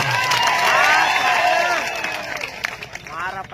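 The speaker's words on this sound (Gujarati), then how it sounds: "સૌ માટે એકવાર જોરદાર આપણે તાળીઓ પાડી લઈએ" A village gathering's audience claps and cheers in a loud, dense burst that gradually thins out, with shouting voices mixed in.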